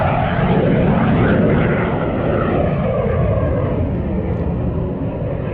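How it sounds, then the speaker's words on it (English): A fighter jet taking off or landing near Cabela's pond gives a loud, steady broadband roar that fills the whole clip and fades slightly toward the end. "I don't know how much longer we're gonna have to deal with these fighter jets taking off and landing."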